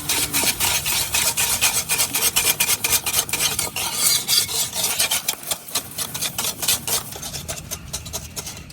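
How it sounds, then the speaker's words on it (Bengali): Eggs and sugar being stirred together in a bowl for a palm-fruit cake, a steady, close scraping and rubbing rhythm with repeated quick strokes and no talking. "এখন ডিমের সাথে চিনিটারে খুব ভালো করে মিশাই নিয়াম যতক্ষণ না পর্যন্ত চিনিটা একদম গইলা যাবো ততক্ষণ পর্যন্তই কিন্তু এরকম নাড়তে থাকা লাগবো"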